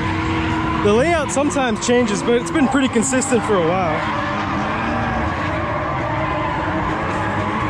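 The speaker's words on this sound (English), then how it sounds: "Most of these cars are fully straight piped." Straight-piped drift cars race at a Friday night drift event at Lanier Raceplex, with loud, rising and falling engine wails and tire squeal nearby while someone talks over the noise, before the cars fade into a rumbling background.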